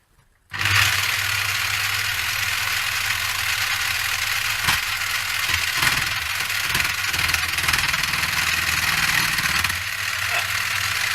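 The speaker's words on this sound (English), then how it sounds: "Now I'll turn the speed right down on the lathe. You'll hear the difference" A wood lathe used for making flutes starts up and runs at low speed, giving a steady motor hum with low droning tones and intermittent juddery knocks and scrapes from cutting, close and continuous.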